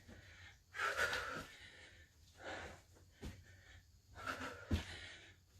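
Heavy, rasping breaths from someone in the middle of a HIIT strength and plyometric workout, with several loud wheezing exhales and gasps coming in uneven bursts, close to the microphone in an otherwise quiet room.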